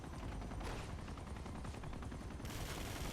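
Gunfire from the video game Uncharted 2, a dense burst of rapid shots and blasts filling the whole stretch with loud, continuous crackling and no talk over it.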